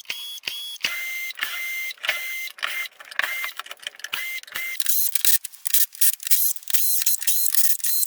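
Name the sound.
removing rusted screws from garden table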